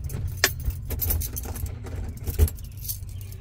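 A bunch of keys jangles close by at a car while shopping bags are unloaded, with irregular metallic clinks and rattles over a low rumble of background noise.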